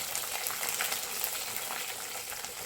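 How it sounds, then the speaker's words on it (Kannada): Capsicum, green chillies, mustard seeds, curry leaves and peanuts being tempered in hot oil, giving a soft, steady hiss and crackle of frying, fairly quiet and continuous with no talk. "ಕ್ಯಾಪ್ಸಿಕಮ್ ಒಗ್ಗರಣೆ ಮಾಡ್ಕೊತಿದ್ದೀನಿ"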